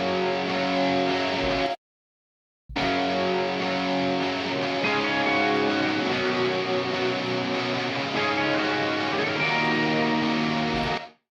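Sustained electric guitar chords with added reverb ring out with a spacious, washed tail, broken by one short silent gap before the playing resumes and fades at the end.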